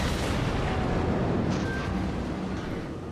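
Heavy naval shells slamming into a warship's hull in World of Warships, a dense sustained rumble of booming impacts and low explosive roar with no clear gaps, loud and close throughout.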